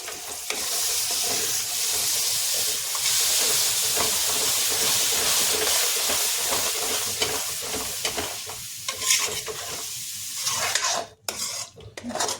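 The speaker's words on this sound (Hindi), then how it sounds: "अब इसको तेज आंच पर भून लेंगे थोड़ी देर के लिए अच्छे से" Spiced masala with tomatoes frying on high heat in a pan, a steady close sizzle and hiss with steam, broken by occasional stirring scrapes toward the end.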